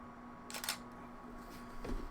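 A DSLR camera shutter fires with a slowed shutter speed, giving a crisp mechanical clack followed by fainter closing clicks about a second later, close and alone against a quiet background.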